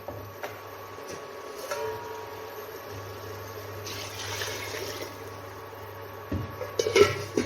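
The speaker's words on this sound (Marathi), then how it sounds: "याच्यामध्ये गरमच पाणी टाकायचं आहे आपल्याला" Hot water is poured into a simmering mutton head curry on the stove: a low steady hum carries a soft rushing pour that swells for a second or two, followed by a few clinks of a vessel, with no talking.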